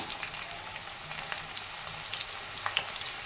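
Chopped onion frying in hot oil gives a steady, moderately quiet sizzle with scattered small pops and crackles throughout, no voices over it.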